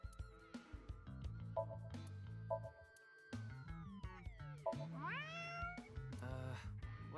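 A game character meows at a lucky cat statue in a video game, with repeated short meow-like calls over steady game music and sound effects.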